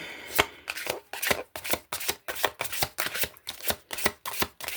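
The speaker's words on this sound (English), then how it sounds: "these are not shuffle-friendly cards" A stiff deck of tarot cards shuffled up close in about ten crisp, evenly spaced bursts of riffling slaps, each with a sharp attack and quick fade, with no voices.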